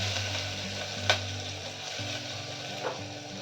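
Mustard seeds, hing and curry leaves sizzle and crackle in hot oil, a steady soft frying hiss with a sharp pop near the start and another later on.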